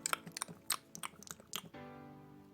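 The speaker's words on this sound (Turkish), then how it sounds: "bir daha ağzını şapırdatma" Wet, smacking chewing from a mouth eating noisily, with a quick run of lip smacks and crunchy bites in uneven bursts that fade into a low, steady hum.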